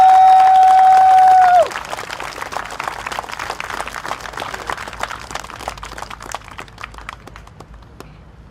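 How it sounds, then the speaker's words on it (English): A political rally crowd claps and cheers, the applause steady and dense at first, then gradually thinning and fading. "I would like to ask everybody to give another rousing round of applause for Suraya Akbar, please."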